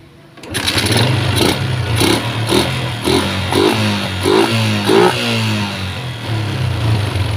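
A smoking motorcycle engine due for new piston rings starts up and runs loud and close, blipping through several throttle revs before settling into a rough, clattery idle.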